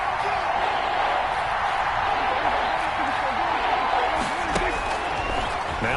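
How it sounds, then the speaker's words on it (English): A stadium crowd in the Madden 21 football video game roars steadily and urges on the defense, a constant broad crowd din with faint musical tones. "this crowd urging on their defense. They're up and making noise"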